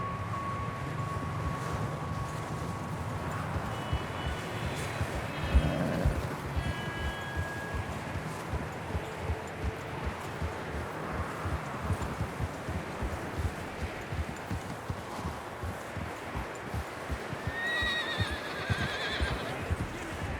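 Horses in Red Dead Redemption 2 walk with a steady clip-clop of hooves and let out whinnies and neighs over a constant outdoor ambience, with no talk.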